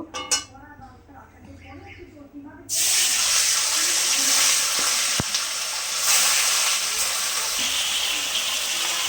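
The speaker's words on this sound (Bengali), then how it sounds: "তেল গরম হয়ে গেছে, মাছগুলো ভেজে নেব।" Fish fry in hot oil for a fish and yam curry, a loud close sizzle that starts abruptly after a few seconds of quieter sound and continues steadily, with a brief knock midway.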